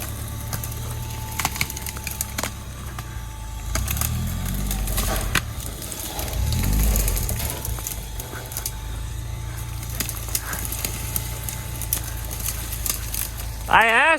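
Off-road vehicle crawling over logs on wooded acreage, a steady engine drone with rumbling thumps and creaking as the tires climb, loud and close, with a voice briefly heard near the end.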